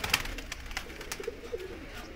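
A pigeon gives a few soft, low coos, faint and fairly close, over quiet background noise.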